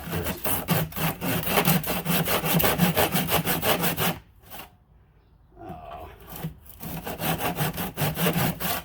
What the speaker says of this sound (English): I'm going to just see how hard it is to slice through this with the handsaw first